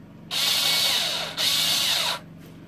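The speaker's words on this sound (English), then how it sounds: "let's screw it back in and finish up the job." A power drill drives screws back into an Ice Castle light fixture in two close, loud whirring bursts of about a second each, separated by a brief pause and spinning down at the end.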